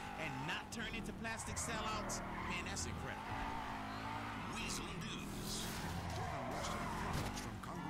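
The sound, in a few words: car skidding with handbrake in video game GTA V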